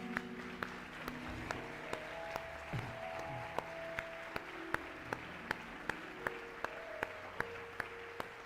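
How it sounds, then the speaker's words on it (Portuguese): Church congregation at a Portuguese-language worship service clapping in honour of the Holy Spirit, faint, steady, rhythmic claps in time over soft sustained music in a large room. "Você pode dar um aplauso em honra ao Espírito Santo."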